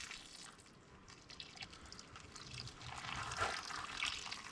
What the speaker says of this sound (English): I'm going to pre-water the buckets a little bit